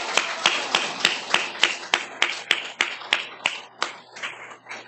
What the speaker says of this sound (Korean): 우리 하나님께 구원의 은혜를 주신 하나님께 감사의 박수 한번 올리십시다